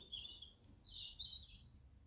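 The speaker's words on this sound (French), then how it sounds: "Je voulais vous faire entendre les oiseaux." Birds sing outside an open window on a fine day: a few high, bright chirps and short warbled phrases, faint and moderately distant over a quiet background.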